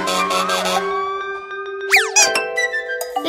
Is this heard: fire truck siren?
yes